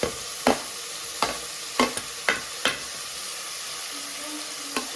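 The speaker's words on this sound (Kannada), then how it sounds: "ಈರುಳ್ಳಿ ಬಂದ್ಬಿಟ್ಟು ಟೊಮೆಟೊನ ಹಾಕ್ತಾ ಇದ್ದಾರೆ ಅದೊಂದು ಸ್ವಲ್ಪ ಫ್ರೈ ಆಗುವಾಗ ನೆಕ್ಸ್ಟ್ ಪುದೀನ ಸೊಪ್ಪು ಕೊತ್ತಂಬರಿ ಸೊಪ್ಪು ಹಾಕಿದರೆ ಆಯಿತು" Onion, tomato and mint leaves fry in a pan under a continuous soft sizzle, broken by about half a dozen distinct scraping strokes of a spoon stirring, with no one speaking.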